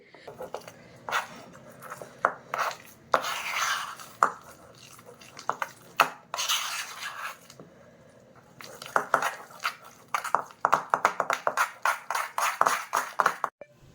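Henna paste being stirred with lemon juice in an iron bowl, a run of quick, close scraping and tapping strokes that start sparse and grow into a rapid rhythmic mixing, no voices.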